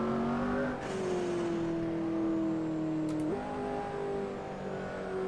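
McLaren P1 supercar engine in Assetto Corsa, a steady sustained drone from the driver's seat that shifts pitch once, like a gear change, as the car eases through a corner, with no talking.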